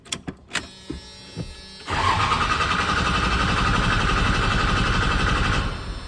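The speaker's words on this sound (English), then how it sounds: "See how it cranks over," A 1996 Dodge 2500 diesel engine cranking over, opening with a few sharp clicks and knocks, then a loud, steady, even churning crank that holds for several seconds before easing off.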